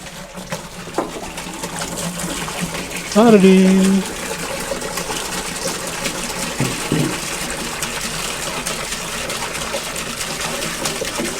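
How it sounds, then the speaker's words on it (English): Acetone gushes and splashes into a bucket, a steady pouring wash over background noise, with a brief mechanical whine partway through. "usually I take a couple gallons of acetone, and we'll pour these in here."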